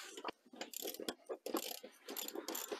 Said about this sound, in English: Now that we have the covers off, we can go ahead and just loosen these bolts.